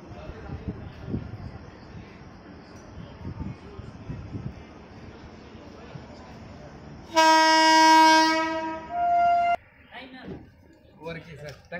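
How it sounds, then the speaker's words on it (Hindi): An Indian Railways Ludhiana express special pulling out from a platform, with a low rumble and crowd chatter, then a long loud two-tone horn blast followed by a shorter second blast while people talk nearby. "हमारा ट्रेन का डिपार्चर हो चुका है प्लेटफॉर्म नंबर दो से"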